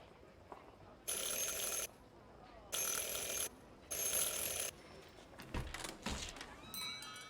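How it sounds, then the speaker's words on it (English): A shop door bell in the video game Syberia rings three times in distinct, loud bursts, each about a second long with short pauses between, followed by some softer clattering. "Ring 3 times for urgent matters."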